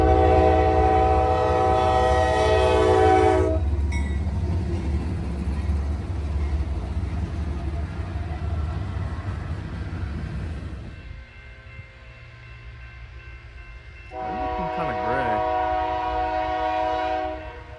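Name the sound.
CSX heritage locomotive train passing, sounding horn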